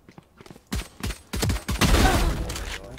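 Rapid pistol gunshots in the video game Valorant during a one-versus-four clutch, a few sharp single cracks building into a loud, dense burst of fire with ringing tails, no talking.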